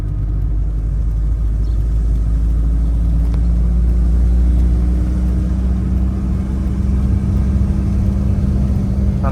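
Car engine revving steadily during a driving lesson, a loud continuous low rumble with a slight rise in pitch, close and alone with no talk.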